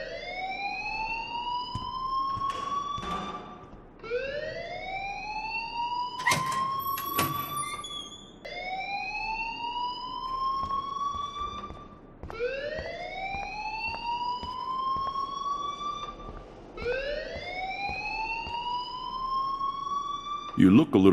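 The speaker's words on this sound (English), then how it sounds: "please turn off that alarm since that's your job" A fire alarm blares in the video game Life is Strange, a rising whooping siren tone repeating about every four seconds, loud and steady, with brief voice fragments in between.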